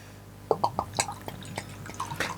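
A dark 8% Harviestoun Ola Dubh beer is poured into a Steenberg chalice glass, giving faint gurgles and liquid drips in a short uneven series.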